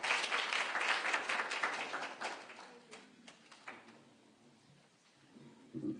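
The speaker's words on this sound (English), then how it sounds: "Let's give His Excellency another round of applause." An audience at a civil society breakfast meeting in Nairobi applauds, the clapping steady for about three seconds and then thinning to scattered claps before a brief closing burst.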